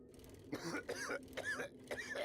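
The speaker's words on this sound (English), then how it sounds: "It definitely makes you feel uncomfortable to hear the coughing and see the smoke" Feral burn zombies cough in 7 Days to Die, a few short, rough bursts spaced about half a second apart, fairly quiet and close.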